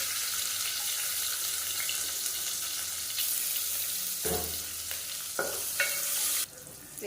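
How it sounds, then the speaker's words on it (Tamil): Small shallots frying in hot oil for tomato soup, a steady close sizzle with occasional stirring scrapes and clinks of a spoon in the pan, no voices. "வெங்காயம் நல்லா வதங்கிடுச்சு"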